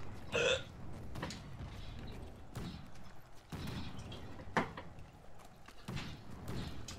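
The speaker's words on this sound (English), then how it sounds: "I got hiccups" Hiccups from a player in the middle of a game, a few short sharp jerks scattered over several seconds, loud and close above constant gaming background noise.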